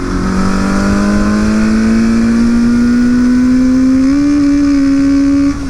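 Suzuki GS850 motorcycle engine revved with a slipping clutch, a loud close drone whose pitch climbs steadily and then jumps higher near the end before cutting off.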